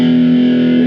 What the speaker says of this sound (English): the more gain I'm adding, the more sort of distortion, overdrive, it gives me more sustain to the sound as well